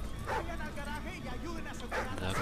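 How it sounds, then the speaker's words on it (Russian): A dog in the shooter game Call of Duty: Ghosts yips and whimpers in short bursts under continuous game sound and talking voices. "собаку держи."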